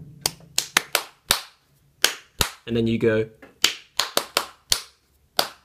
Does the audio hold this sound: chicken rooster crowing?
no